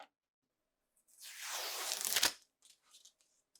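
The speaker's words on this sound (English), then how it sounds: "Finally, reinstall the two screws and remove the tape." Masking tape is pulled off a GE refrigerator door in one quiet, rasping rip lasting about a second, followed by a few faint soft rustles.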